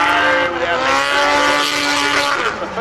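Time attack race car slides sideways at a 2012 Australian event, its engine howling in a loud, sustained tone over rough tyre noise, with a commentator talking throughout.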